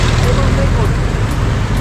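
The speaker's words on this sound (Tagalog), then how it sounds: "So ayun na yung tricycle mga kasani sa tawid." A tricycle engine drones in busy street traffic, a dense, continuous road rumble close by with a voice speaking over it.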